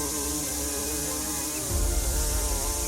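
Bees swarming around a wounded yellow dairy cow make a steady, droning buzz close by, with a deeper rumble joining partway through.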